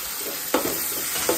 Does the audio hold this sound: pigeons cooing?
no